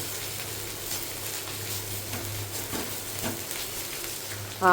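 Jackfruit pieces frying in a pan give off a steady, close sizzle with faint scraping textures and a low hum beneath, swelling briefly louder at the very end.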